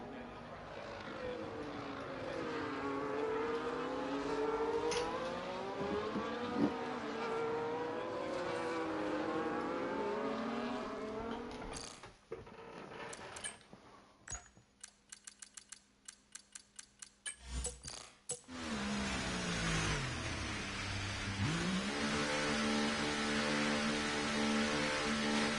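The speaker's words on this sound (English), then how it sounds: "We got a bunch of cars all jumping into pit lane here." Racing cars from a racing video game at Spain pulling into the pit lane, rising and falling engine whine that drops to rapid ticking and choppy bursts, then swells back into a steady drone, with a voice speaking over part of it.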